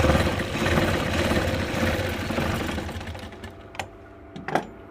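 A sewing machine runs a steady whirring stitch along the folded edge of a blouse for about three seconds, then stops. A few sharp handling clicks follow.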